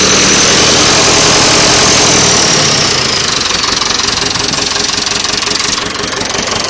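A rebuilt Nuffield 805 tractor engine runs loud and close, revving high at first, then settling into a steady knocking idle.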